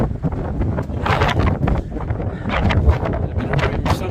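Strong gusty wind buffets the microphone in rough, rumbling bursts throughout, loud and close with no clear voices.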